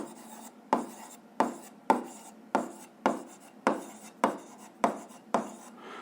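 A pen scratches across paper in a series of about nine short, evenly spaced strokes, each a sharp scrape that fades quickly, close and fairly quiet.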